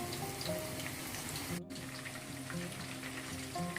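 Thai fried chicken pieces sizzle steadily in hot oil over medium heat, a dense crackling frying hiss with soft stirring scrapes as the pieces are turned, and a brief dip partway through.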